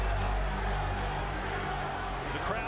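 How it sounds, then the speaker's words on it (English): Crowd at a professional boxing arena during a title fight, a dense continuous buzz of murmuring spectators, with a commentator's voice mixed in. "The crowd buzzing, they sense something."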